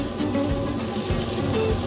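Carrots, onions and celery browning in a pan for moose osso bucco, a soft continuous sizzle close by with a faint low rumble.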